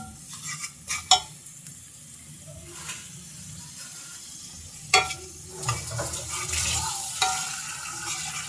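Spice masala for a beef and potato curry fries in a pan while being stirred, a low sizzle broken by scraping and clacking strokes of the spoon at irregular intervals, close and without talk.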